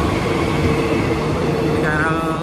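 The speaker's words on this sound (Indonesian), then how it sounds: "KRL tujuan Palur sudah berangkat dari jalur 1 stasiun Lempuyangan" A KRL commuter train pulls away from platform 1 at Lempuyangan station, producing a steady, loud rumble of wheels and carriages. A faint squeal rises briefly near the end.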